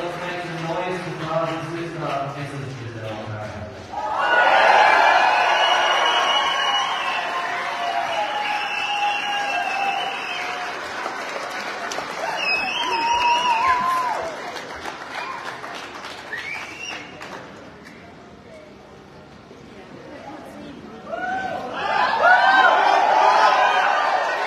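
A big concert crowd applauds and cheers inside Cain's Ballroom, a Tulsa music venue, with sustained loud clapping that swells, dips midway and rises again at the end, voices mixed in.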